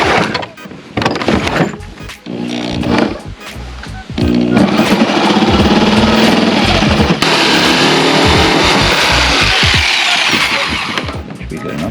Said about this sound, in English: made it out a little bit big enough so we could get the blade down through for the little jigsaw